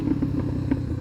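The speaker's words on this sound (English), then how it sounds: "All that popping, dude, it makes you sound like you have such a bigger bike than you do." A Honda CBR motorcycle running with its exhaust popping, several sharp, uneven pops over a low, steady engine rumble, heard close.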